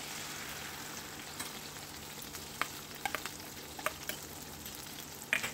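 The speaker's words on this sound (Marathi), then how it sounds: "तर आता आपण यामध्ये तयार केलेलं वाटण टाकणार आहोत।" Green masala paste sizzles as it goes into a pan of frying brinjals (eggplant), a soft, steady hiss broken by small pops and spatters, with no talking.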